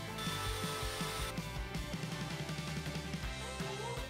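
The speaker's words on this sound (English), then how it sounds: "Using my homemade saw track once again, I cut a higher quality piece of plywood" A power saw cuts plywood along a homemade saw track, a loud, steady whirring buzz with rhythmic rattling, close up and without talk.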